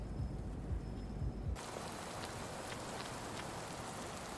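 Steady rain falls in the sci-fi video game Born Punk, a dense even hiss that takes over abruptly after a brief stretch of low rumbling, continuing alone without voices.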